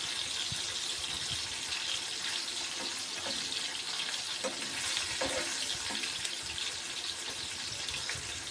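Small pieces of fish coated in salt and turmeric fry in a pan, giving a steady hiss and crackle with a few faint clinks, continuous and close throughout with no talking.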